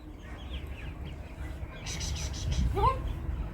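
Backyard hens cluck and squawk in short bursts near the microphone, rising toward the end, while a person talks over them.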